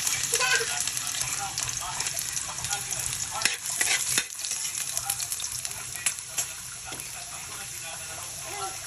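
Garlic sizzles and crackles steadily in a hot pan, with occasional sharp clinks and stirring scrapes over a constant bright frying hiss, heard close and fairly quiet.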